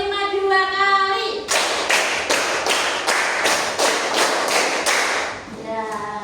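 A sixth-grade class claps together in a counting game, about nine or ten sharp, evenly spaced group claps in a quick rhythm, framed by a teacher's voice before and after.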